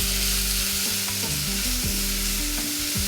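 Onions sautéing in a pan for a chicken stew, a steady, loud sizzle with a low hum throughout and no talking.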